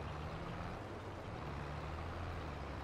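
A tractor trailer truck in Farming Simulator 22 drones with a steady, low engine rumble and hiss, continuous and even throughout, with no voices.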